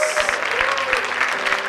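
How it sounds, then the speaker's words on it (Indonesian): Audience applause at an evening church gathering welcoming a doctor to the stage, a steady wash of clapping that runs the whole short stretch with a few louder individual claps. "Berikan tepuk tangan yang terbaik, saudara."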